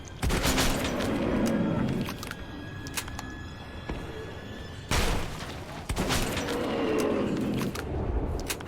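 Gunfire in the video game Metro 2033, with bursts of shots and booming blasts in two dense clusters separated by a short lull, loud and close throughout.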